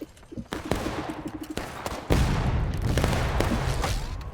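Musket volleys in the Civil War video game War of Rights, a loud ragged fusillade of overlapping gunshots that swells into a sustained roar of massed fire, close and continuous.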